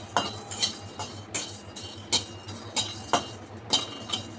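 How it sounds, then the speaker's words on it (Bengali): Spoon or spatula clinking against a metal pan while whole cloves and black pepper are stirred, a string of sharp, evenly spaced metallic taps over a low steady hum. "লবঙ্গ দিলাম, গোলমরিচ দিলাম, এবার একটু সামান্য নেড়ে চেড়ে"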